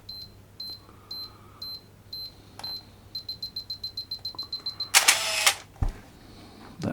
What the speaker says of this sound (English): On the on-off switch is also the self-timer, and that's when you get the beeper as well.